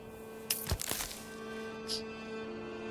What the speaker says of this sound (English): Right, keep chopping wood.